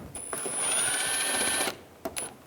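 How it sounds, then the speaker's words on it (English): A power screwdriver with a Phillips bit whirs steadily with a high whine while backing screws out of the fog light trim on a 2013-2016 Dodge Dart, followed by brief clicks and a short second burst. "Underneath, there's screws holding this in. Use a Phillips head screwdriver."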